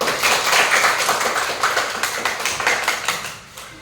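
Schoolchildren in a classroom clap in unison, producing a brisk, rhythmic series of close claps that holds steady and then tapers off at the end.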